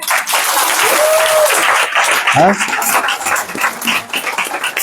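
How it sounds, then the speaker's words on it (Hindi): An audience at an evening devotional program in Rijswijk, Holland breaks into loud, sustained applause that fills the room, with a voice calling out briefly over the clapping. "जोर से तो ताली तो मारो।"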